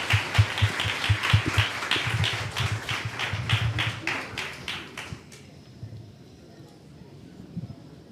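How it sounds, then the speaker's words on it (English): A small audience at a storytelling talk applauds, about five seconds of distinct, fairly loud individual claps in a quick irregular rhythm, then stops abruptly, leaving quiet room tone with faint shuffling. "let's give him another round of applause to get him started while he puts on the hat"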